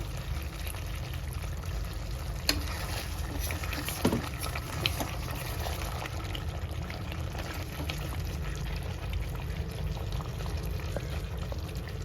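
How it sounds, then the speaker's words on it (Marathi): Hot water poured onto chicken in a pressure cooker makes a continuous, dense splashing patter that stays even throughout, close and moderately loud, with a couple of faint clicks and no speech. "थोडंसं गरम पाणी टाकणार आहे मी कारण शिजायपुरतंच टाकायचं जास्त नाही टाकायचं"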